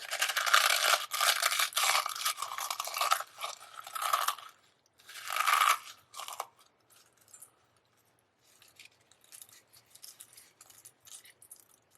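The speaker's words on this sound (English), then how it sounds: "you're gonna take a handful of Doritos and just crush them up" A handful of Doritos tortilla chips crushed by hand in a bowl gives sharp crackling crunches in quick bursts for several seconds, then fades to fainter, scattered crinkles.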